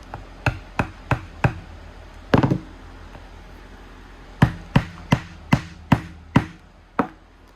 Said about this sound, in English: I'm actually gonna punch these holes in now. I got a little diamond chisel set here.